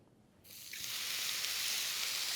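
Aubergine searing on a griddle pan over high heat, a steady bright sizzle that jumps in suddenly after a brief quiet start and holds loud and even to the end.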